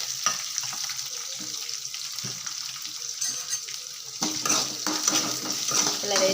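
Onions and green chilies frying in a pan while being stirred, a steady hiss of sizzling with scraping stir strokes that grow a little louder toward the end.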